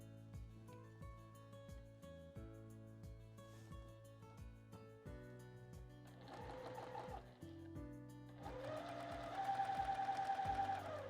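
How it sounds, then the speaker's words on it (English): A sewing machine stitches a quilt block with a steady mechanical whir and rhythmic needle chatter, running in bursts that grow louder and faster toward the end. "we'll sew it up and press, and our block will be finished"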